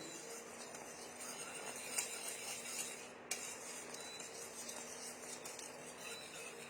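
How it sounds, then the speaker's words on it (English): Custard being stirred in a pan in a home kitchen, a quiet continuous scraping and clinking of a utensil against the pan, with a couple of sharper knocks. "Keep mixing."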